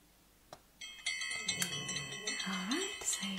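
During a soft-spoken teacher roleplay, an electronic bell sets up a ringing multi-tone chime that holds steady for a couple of seconds, with some rustling and murmuring underneath.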